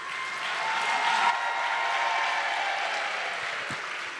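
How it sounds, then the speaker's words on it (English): An audience at a university distinguished alumni awards ceremony applauds, a broad, even wash of many hands clapping in a large hall, held steady at moderate volume before easing slightly near the end. "another round of applause."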